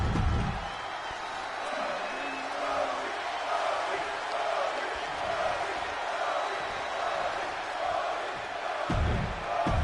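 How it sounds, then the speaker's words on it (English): A WWE 2K24 arena crowd gives a sustained, roaring ovation, a steady wall of cheering that holds at even loudness throughout with no clear breaks. "listen to this ovation for the American Nightmare. The crowd are on their feet."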